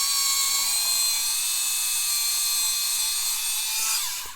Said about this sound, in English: So I'll just drill me out and be done with it like that.